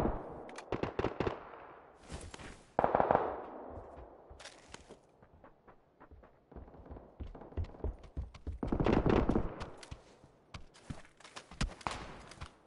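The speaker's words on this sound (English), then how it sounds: "I got sniped right here" Scattered gunfire in the battle royale game PUBG with sniper shots, sharp cracks in short clusters separated by quiet stretches, some bursts louder and closer than others.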